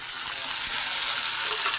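Tomatoes fry in a pan of cooked onions for matar paneer, giving a loud, steady, close sizzle with light stirring throughout.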